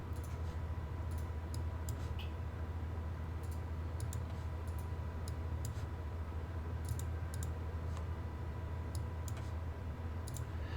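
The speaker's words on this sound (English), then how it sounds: "So I can actually click things correctly." Computer mouse clicks while painting tiles for an action RPG game, sparse sharp clicks scattered irregularly over a steady low hum, close and faint.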